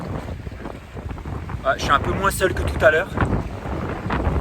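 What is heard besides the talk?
strong wind at the beach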